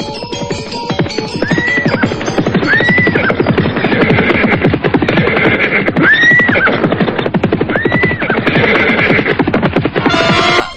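Horses whinny several times in repeated rising calls over continuous rhythmic hoofbeats clip-clopping along a road, loud and close throughout.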